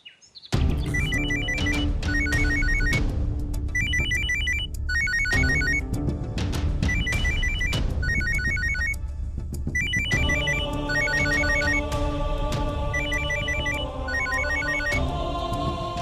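A telephone ringtone in a Tamil TV serial scene, where a call is being placed, rings loudly and steadily with a repeating melodic pattern for the whole stretch, with no voices over it.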